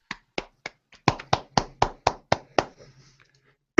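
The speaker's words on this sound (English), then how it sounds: "Round of applause." About a dozen sharp hand claps in a steady rhythm, close and distinct against silence, tapering off into a few softer claps near the end.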